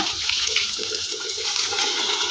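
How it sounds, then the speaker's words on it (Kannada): Water pours into a pan of citron pieces, making a steady, close, rushing splash that lasts throughout without any voices. "ಇವಾಗ ಸ್ವಲ್ಪ ನೀರು ಹಾಕೊಂಡು ಬೇಯಿಸ್ಕೊಳ್ಳೋಣ"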